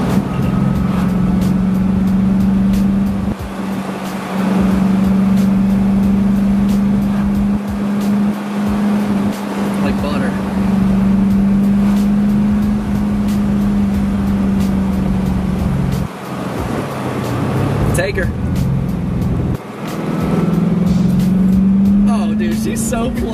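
A Corvette sports car drives through corners, its engine a steady, loud droning hum heard from inside the cabin that swells and dips as it goes, while people talk throughout.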